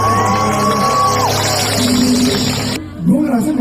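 An audience cheers and whoops as a dense crowd of voices shouts together loudly for about three seconds, then drops away before a final short yell.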